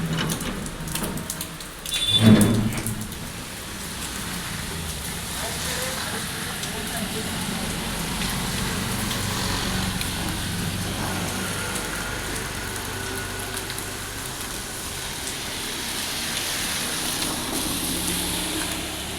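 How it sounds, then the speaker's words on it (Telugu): Rain falling outdoors, a steady, even hiss that continues for the whole stretch, with a brief louder bump near the start. "ఇప్పుడైతే బయటకు వెళ్ళే ప్రసక్తే లేదండి, వర్షం మళ్ళీ స్టార్ట్ అయింది"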